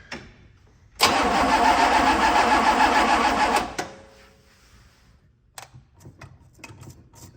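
The engine of a 1965 Pontiac Catalina cranks over loudly for about three seconds without catching, then stops, leaving quiet clicks and faint rustling.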